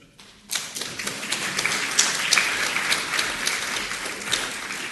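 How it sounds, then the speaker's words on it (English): Conference audience at an evening plenary session applauding a presenter, the clapping swelling in after a brief quiet start and holding as a busy, fairly close patter of many hands to the end. "No need to applaud yet."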